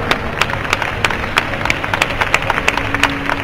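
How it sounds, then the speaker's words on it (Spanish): Strong applause from an audience at a hairdressing awards ceremony in Cosmobelleza 2010, dense steady clapping with sharp individual claps standing out. "Un fuerte aplauso."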